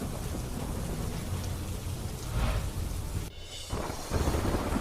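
Heavy monsoon rain pours down steadily in Dhanera, Banaskantha, a dense continuous hiss with a brief dip and a low rumble near the end.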